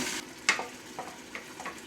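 Blended pepper mix frying in hot oil for Nigerian efo riro stew, giving a soft steady sizzle with a sharp crackle burst and a few faint spits and pops, no talking.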